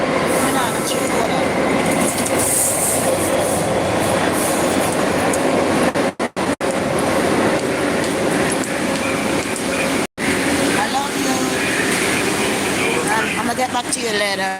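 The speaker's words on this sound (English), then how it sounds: "I'm on the train." A New York subway train runs toward Grand Central 42nd Street, its car rumbling and rattling continuously with squealing wheels and a few brief dropouts, while someone talks over the noise.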